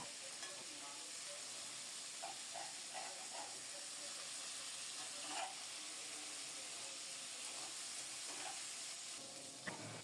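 Rohu fish pieces frying in hot oil in a Bengali kitchen, a steady soft sizzle and hiss throughout with a few faint pops and clinks.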